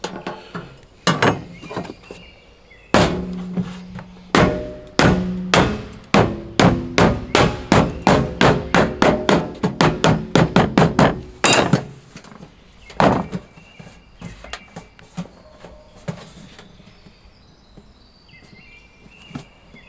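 Steady hammer blows ring out close by while fitting a mailbox post, a fast run of regular strikes, then a few scattered taps fading into quiet.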